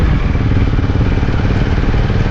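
A motorcycle rides along a road around Sreemangal, its engine a steady, loud, close rumble with wind and road noise that never lets up.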